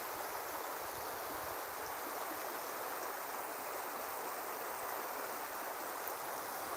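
River flowing beside a walking path, a steady broadband rush of water that stays even and unbroken throughout, moderately loud with no voices.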